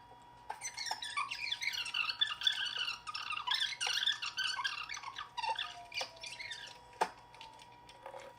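Fast-forwarded voices of two people talking in a room, sped up into high squeaky chipmunk-like chatter, rapid and continuous over a faint steady hum.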